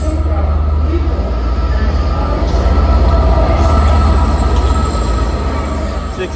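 A Class 197 passenger train arriving at Chester station, a loud continuous rumble of wheels and engine with faint high squeals, the roar easing slightly toward the end, with a voice talking over it.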